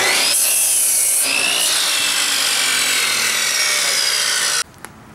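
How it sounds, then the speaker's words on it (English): A saw cuts a wooden board in half with a loud, continuous rasping whine that runs steadily for several seconds, then stops abruptly, leaving a quiet tail with a small knock. "I'm going to take this extra board and I'm going to cut it in half"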